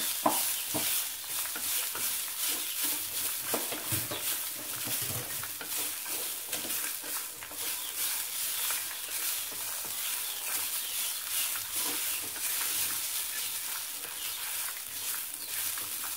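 Grated coconut frying with dried chillies and onion in a pan for a village-style lunch, a steady close sizzle with soft stirring scrapes throughout, no talking.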